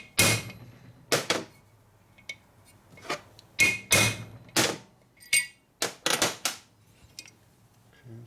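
Repeated sharp metallic hammer strikes drive a part into a 1965 Harley-Davidson Panhead four-speed transmission, at an uneven pace, some in quick pairs, with quiet gaps between the blows.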